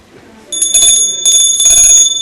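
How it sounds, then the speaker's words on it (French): Small bell rung in two short bursts, bright clear ringing tones with sustained high overtones that linger between strikes, close and fairly loud. "Ô cloche au son cristallin"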